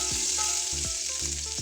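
A spoonful of garlic-ginger paste fries in hot ghee with a steady, bright sizzling hiss that carries on without a break, close up and moderately loud.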